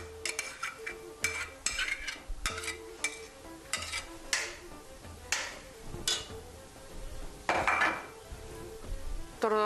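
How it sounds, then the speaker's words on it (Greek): Whipped keskek, creamy in texture, is emptied into a pot in a home kitchen, giving a series of scraping and clinking knocks of utensil against metal at an irregular pace, close and moderately loud, with no speech. "Αδειάζουμε το κεσκέκ που έχουμε χτυπήσει, που είναι σαν κρέμα, στην κατσαρόλα."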